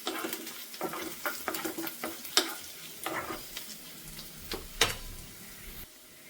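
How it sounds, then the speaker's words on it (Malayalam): Onion, ginger and garlic frying in a pan for beef pothi porotta, a steady close sizzle broken by repeated scraping stirs and a few sharp clinks of the spoon against the pan. "നമ്മുടെ സവോളയും അതുപോലെ ഇഞ്ചിയും വെളുത്തുള്ളിയൊക്കെ ഇതാ മൂത്ത് തുടങ്ങിയിട്ടുണ്ട്."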